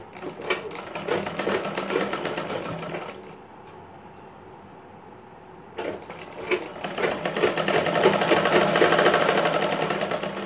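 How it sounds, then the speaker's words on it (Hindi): A sewing machine stitches a katori blouse sleeve in two close, loud runs of rapid rhythmic clatter, separated by a short quieter pause, with the second run building steadily louder. "तो यहाँ पर मैं डायरेक्ट ही सिलाई चला करके बता देता हूँ आप लोगों को।"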